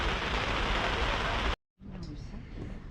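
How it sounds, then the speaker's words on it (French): Steady rain falls during a summer morning in Bormes, southern France, a dense hiss for about a second and a half, then a brief silent cut before softer, quieter rain noise continues. "Il pleut toujours."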